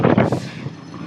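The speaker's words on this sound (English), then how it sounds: "Oh, it's windy." Wind buffeting a microphone outdoors at a barndominium remodel site, a loud, close rumbling gust that peaks at the start and then eases into a softer whoosh.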